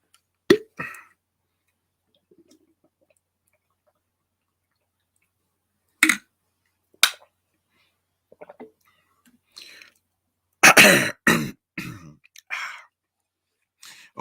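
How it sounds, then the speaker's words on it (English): Several short, sharp throat-clearing coughs close to the mic, separated by long quiet gaps, with a cluster of them bunched together near the end. "sorry if you hear me just trying to clear my throat and stuff"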